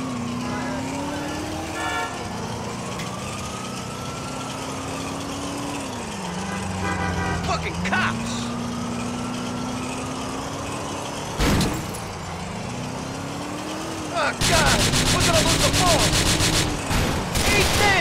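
Car chase in Grand Theft Auto IV, the vehicle running on two bare rims, with a siren wailing up and down through most of the stretch, engine drone beneath, and a loud burst of gunfire near the end.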